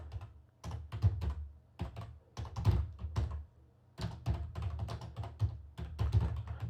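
Keys clatter on a computer keyboard in bursts of rapid typing separated by short pauses, close and clear with no voices over it.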